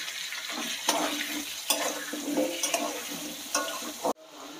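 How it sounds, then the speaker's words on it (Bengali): Potatoes frying in a pan with salt and turmeric, a steady close sizzle broken by a few sharp stirring scrapes, ending abruptly in near silence. "দেখুন, আলুগুলো ভাজা হয়ে গেছে,"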